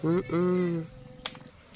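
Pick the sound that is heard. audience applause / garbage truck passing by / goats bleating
goats bleating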